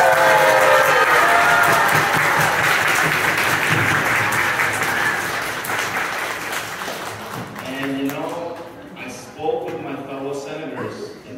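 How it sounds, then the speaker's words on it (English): Loud, dense applause from the crowd at a student officers' swearing-in ceremony at PS392, fading after about six seconds into scattered clapping, chatter and voices. "Let's give it a round of applause."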